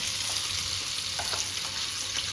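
Fish frying in a hot pan until golden: a dense, even sizzle at close range that stays constant throughout, with a few faint crackles and pops and no voices.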